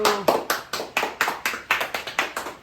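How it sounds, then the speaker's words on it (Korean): A group in a Korean Bible school camp performs a rhythmic success clap, sharp synchronized hand claps in a steady repeating pattern, loud and close with no talking over them. "성공 박수."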